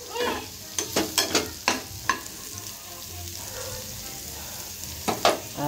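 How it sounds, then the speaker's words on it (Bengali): Potatoes and cauliflower fry in a pan with a constant close sizzle, broken by a quick run of sharp spatula scrapes early on and a couple more near the end. "আর এখানে আলু ফুলকপি ভাজা হচ্ছে।"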